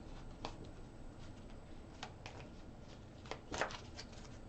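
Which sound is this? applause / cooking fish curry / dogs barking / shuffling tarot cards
shuffling tarot cards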